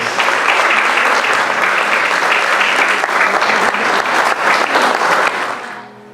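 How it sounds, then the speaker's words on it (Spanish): A crowd gives loud, sustained applause welcoming a renowned cajón percussionist at a talk, dense clapping that holds steady for several seconds before fading out at the end. "Cris Aquije, que lo recibimos con fuertes aplausos."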